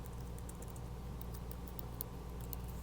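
Faint, quick key clicks from someone typing on a computer keyboard, scattered irregularly over a steady low background hum.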